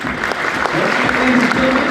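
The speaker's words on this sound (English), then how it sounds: "Ladies and gentlemen, a round of applause to Miss Ruth Cruz." Audience applause at an anniversary party, a steady wash of clapping that fills the whole stretch without a break, with some voices mixed in beneath it.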